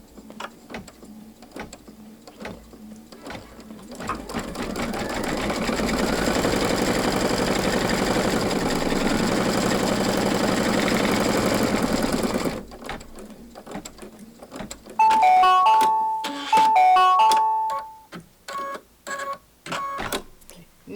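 Embroidery sewing machine stitching fabric appliqué in place on a bunny pillow wrap, a loud steady mechanical whir for several seconds, then a pause followed by jerky stop-start clicking and stepping sounds.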